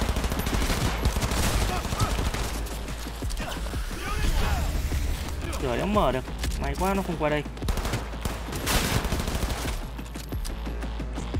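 Gunfire in the video game Cyberpunk 2077, dense rapid bursts of shots and mechanical clatter running throughout, with someone talking over the combat noise.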